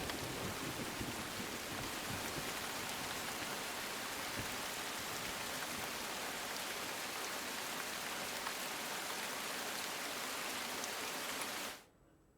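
Heavy monsoon rain pours down across Gujarat in a dense, unbroken roar that stays loud and even for the whole stretch, then cuts off abruptly near the end.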